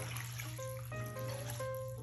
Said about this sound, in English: I am going to pour in the water to my rice noodle here